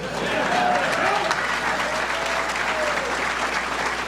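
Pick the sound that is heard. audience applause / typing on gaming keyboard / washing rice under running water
audience applause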